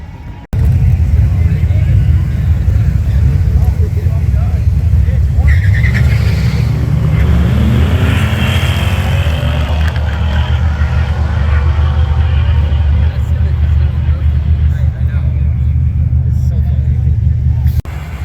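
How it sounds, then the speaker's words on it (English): A V6 car engine at a Friday night drag race roars loud and steady for the whole stretch, its pitch shifting as it runs, with people talking faintly around it. "Sound like a V6."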